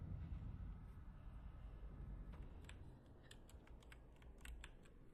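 Computer keyboard typing with mouse clicks while playing Rain World on PC, a steady run of quick keystrokes and sharp clicks close to the microphone over a low background hum, growing denser and louder in the second half.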